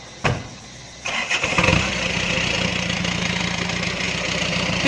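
An Isuzu TFR racing pickup with a side-exit exhaust cranks over after a short click, catches and settles into a loud, steady rumbling idle close by, with no speech.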